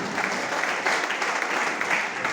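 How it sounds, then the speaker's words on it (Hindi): Steady, dense crowd applause from an audience at a company talk, a continuous even wash of clapping heard alone, moderately loud, with no speech over it. "मैं चाहूंगा इसके लिए एक जबरदस्त ताली दीजिए"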